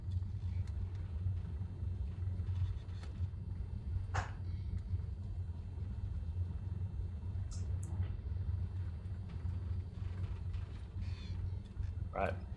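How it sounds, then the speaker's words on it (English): Aircraft taxiing on the ground in Microsoft Flight Simulator: a steady, loud low engine rumble that runs throughout, with a few brief faint clicks on top. "So let's taxi off here."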